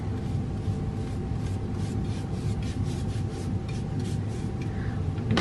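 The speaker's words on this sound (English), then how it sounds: "could also take a towel and just gently rub it on." A towel rubbing a finish onto a thrift store decor piece makes a soft, continuous scuffing with faint repeated strokes over a steady low background hum.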